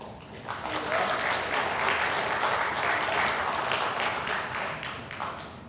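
A congregation claps together during a Korean Sunday worship service, a dense steady wash of hand claps sustained throughout, loud and near, with no speech over it.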